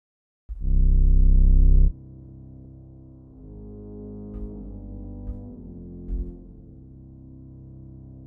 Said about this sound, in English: I want to add a reverb to it just to see what would happen. Like a crazy reverb.